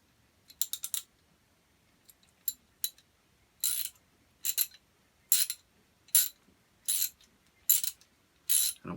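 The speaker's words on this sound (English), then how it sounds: "holding and turning the breech plug through the threads to clear out that grease" The threaded breech plug of a dirty, greasy muzzleloader is turned through its threads, giving a series of crisp scraping, ratchet-like clicks in short regular bursts, close up in a quiet room.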